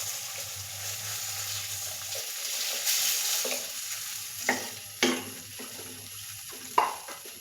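A curry with turmeric powder just added is stirred in a pan over a soft, steady frying sizzle, with a few sharp scrapes and taps of the spoon against the pan near the end.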